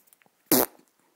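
A single short, loud, buzzy fart lasting under a second, near and isolated against near silence.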